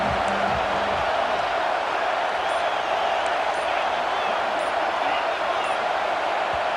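A stadium crowd in a College Football 26 game, Texas A&M at Oklahoma, roars in a steady, dense wall of noise that holds loud and unbroken throughout.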